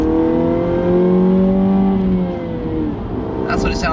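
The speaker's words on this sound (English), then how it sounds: "that's what it sounds like accelerating with the valves closed" A small Mini car engine revs up smoothly with its exhaust valves closed, its muffled, even drone rising in pitch as it accelerates close by.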